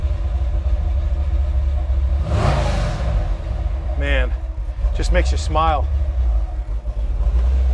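A 1955 Chevrolet Apache pickup with a 502 big block V8 rumbles steadily and swells in a brief rev, heard from inside the cab while someone speaks over it.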